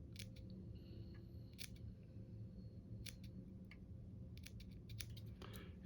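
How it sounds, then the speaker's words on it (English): Small scissors snip fly-tying material on a rotary vise, a series of crisp close cuts in irregular clusters over a steady low background hum. "First I'll trim it away on the bottom. Trim away some at the top."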